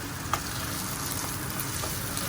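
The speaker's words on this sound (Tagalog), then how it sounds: "Halo na natin yung chorizo na yan." Chorizo sizzling in a pan as it is stirred, a steady close crackling hiss of frying fat with a few light clicks of the utensil.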